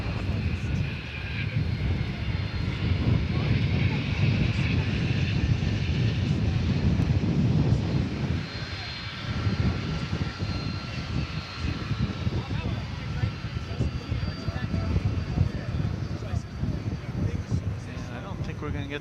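An American Airlines jet on runway 18 Left at DFW Airport produces a loud sustained engine roar that swells and then eases into a lower rumble, with wind noise on the microphone.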